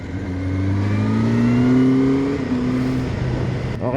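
A 2026 Kawasaki ZX-10R engine revs hard under acceleration, a loud close whine with tones climbing steadily then shifting and dipping, over road and wind noise.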